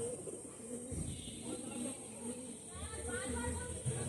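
Pigeons cooing softly in a loft of old racing-line birds, low repeated coos and faint bird calls under steady background hiss, with someone talking nearby.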